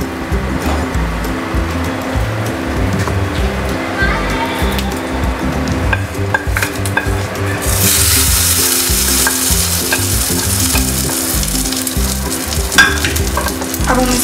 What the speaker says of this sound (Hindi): तड़का हो गया है हमारा रेडी, अब हम इसे ऐड करते हैं अपने चटनी में